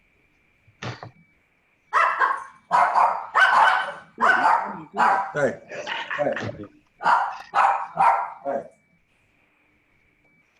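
Several excited dogs bark in quick, loud bursts as a car pulls into a home garage, a short voice calling out before the barking settles into repeated clusters, then silence.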